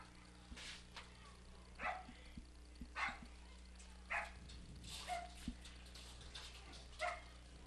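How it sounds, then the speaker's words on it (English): One or two dogs bark repeatedly in the stands at an outdoor field hockey game at Spartan Stadium, six or seven separate, fairly distant barks spaced about a second apart over a low, steady background hum. "In attendance, a dog or two here at Spartan Stadium."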